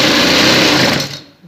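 Sewing machine running fast while stitching along the neckline of a kameez, a close, loud continuous whirring buzz that slows and stops abruptly after about a second.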